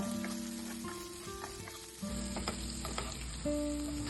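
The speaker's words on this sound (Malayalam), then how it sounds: "ഉള്ളിയുടെ കളർ മാറുന്നത് വരെ വഴറ്റി കൊടുത്തുകൊണ്ടേയിരിക്കണം" Chopped onion sautéing in a pan with cumin and fennel seeds, a steady close sizzle and crackle throughout with faint stirring and utensil scrapes, no voices.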